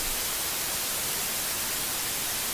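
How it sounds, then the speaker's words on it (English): Steady white noise hisses from a speaker, constant and even with no other sounds. "I will just drop the white noise for a little while."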